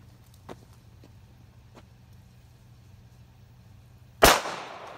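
A single sharp Colt 45 Auto pistol shot rings out outdoors, aimed at an armadillo, loud and close after a stretch of quiet low engine-like rumble and faint footsteps.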